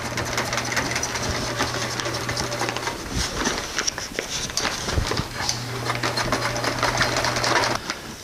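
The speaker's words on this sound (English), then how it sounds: "All I'm really doing is getting this sewn together so it's one piece." A sewing machine stitches slippery plastic for a tuna cooler fish bag, running in a steady close whir with a low hum through most of the stretch and a short slowdown midway, while a voice talks faintly.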